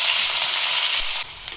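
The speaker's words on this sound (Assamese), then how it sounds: "পিয়াজখিনি অলপ সময় ভাজি লম" Sliced onions sizzle steadily in hot oil in a pan alongside a few potato pieces for an Assamese curry, a close, continuous bright frying hiss with a slight shift near the end.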